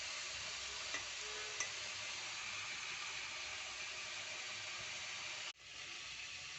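Ingredients for fried rice sizzle and fry in a pan while being stirred, a continuous close hiss with a couple of small clinks, cutting off abruptly near the end before resuming.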